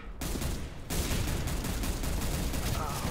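Dense, loud automatic gunfire in the CS:GO video game, a continuous rattle of rapid shots that starts after a short pause and keeps going without break.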